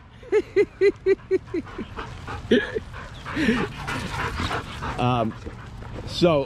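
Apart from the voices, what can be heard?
dog barking and whimpering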